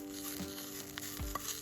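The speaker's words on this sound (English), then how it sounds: "You can hear that sizzling." Food sizzles in a pan on a backpacking camp stove outdoors, a faint steady crackle with a low hum and a few small knocks, no voices.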